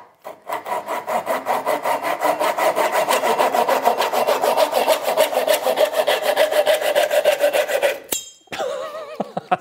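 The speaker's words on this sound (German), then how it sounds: "Wir probieren jetzt nochmal hier weiter zu sägen mit dieser komischen Zahnseite," A cheap folding Japanese saw cuts through wood in quick, regular back-and-forth strokes, about three a second and loud and close. The rasping runs steadily, then breaks off abruptly near the end, followed by a brief scrape.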